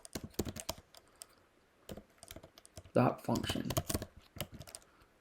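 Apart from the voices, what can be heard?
typing on a computer keyboard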